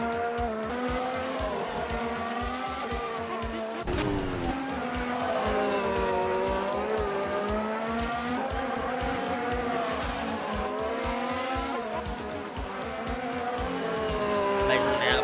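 F1 race cars in a video game at the Austrian Grand Prix, engines whining continuously at high pitch, rising and falling through gear changes with a loud sustained roar, while a voice talks over the action.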